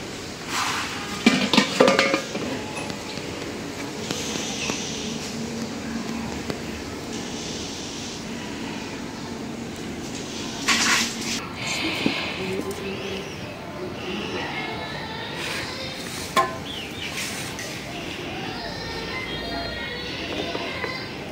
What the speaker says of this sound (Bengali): এখন আমি কড়াইটা ধুয়ে নিয়ে আসি